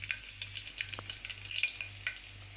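Whole spices such as bay leaf, cinnamon, cloves and peppercorns dropped into hot oil in a pan, a soft steady sizzle with faint crackles and a light stirring tap, no talking.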